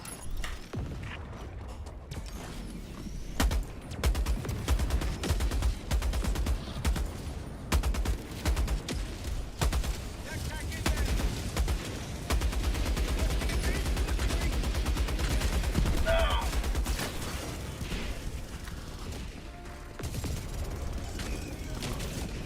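Dense, sustained gunfire from sentry turrets in the Helldivers video game, with rapid bursts and repeated shots over a busy battle din lasting throughout, with player voices talking over the action.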